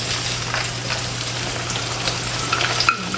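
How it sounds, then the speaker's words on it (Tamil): Small shallots dropped into hot oil to deep-fry, a dense, even crackling sizzle held close throughout, with a few light stirring taps near the end. "இப்ப இதை இதுல போட்டு பொரிச்செடுப்போம்."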